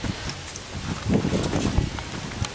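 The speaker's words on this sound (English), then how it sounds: "Some windy ass day we've got." Gusty wind tossing and rustling leaves, a steady broadband hiss that swells midway through, with a few sharper crackles.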